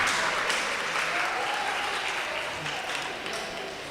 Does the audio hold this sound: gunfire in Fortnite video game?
no